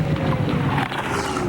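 A Top Fuel dragster engine at an NHRA drag race in Phoenix roars loudly in a dense, continuous blast of noise as it blows up during a run.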